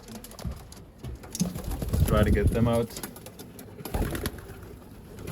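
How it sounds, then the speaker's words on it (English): Young racing pigeons coo and squeak close by in a short burst, with a person talking briefly over the birds. "Still some squeakers, as you can hear by the sound of them."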